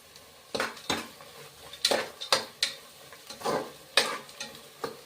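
Whole spices (cinnamon, cloves, cardamom, marathi moggu) go into a pan of well-fried onions for mutton biryani, with sharp utensil clacks and stirring scrapes over a low sizzle.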